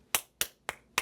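Hands clap four times in quick succession within about a second, sharp and close, with no talk.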